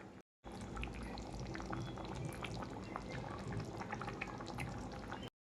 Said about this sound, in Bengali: জলটা দেব।